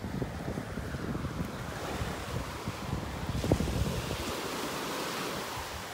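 Steady wind gusting across a beach in North Naples, Florida, roaring broadband over the microphone with surf washing underneath, continuous and fairly loud throughout with no voices.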